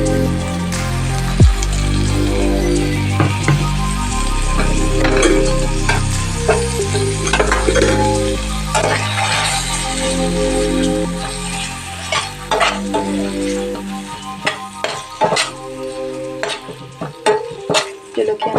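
Ground chillies frying in a pan for Assamese kasuloti, a close, crackling sizzle with repeated scraping and stirring strokes against the pan, loud and continuous with no talking.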